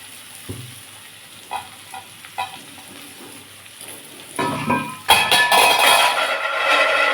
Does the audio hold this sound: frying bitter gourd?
yes